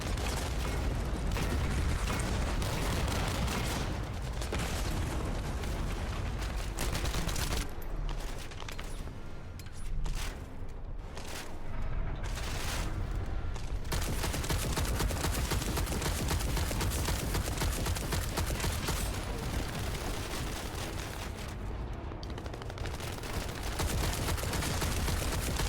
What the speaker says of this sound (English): Use my grenade launcher.